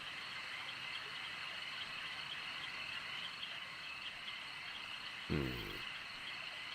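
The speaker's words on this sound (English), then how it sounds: "Yeah, definitely stereo frogs." Frog-like croaking patched on a Eurorack modular synthesizer in stereo, a steady hum of chirping tones with a single louder, deeper croak bursting out near the end.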